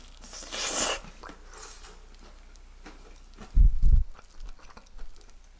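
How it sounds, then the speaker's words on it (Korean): Someone bites into freshly made, crispy Suwon galbi-style whole fried chicken. There are two close, loud crunches midway, with faint rustling and softer chewing around them. "방금 만들어서 아직 바삭해요."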